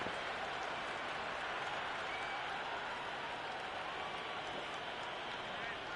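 The crowd at a match in the Cricket 26 video game, Multan Sultans against Kashmir Warriors, cheers with a steady, dense roar of applause and noise that holds at the same level the whole way through.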